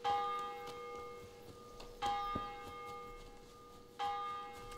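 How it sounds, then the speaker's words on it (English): Church bells in the video game Kingdom Come: Deliverance ring three times at even two-second intervals, each strike ringing out with a long humming decay, fairly distant and alone. "But bells like those require somebody to pull the strings on them."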